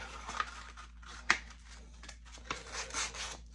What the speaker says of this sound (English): It's going to be a wet sanding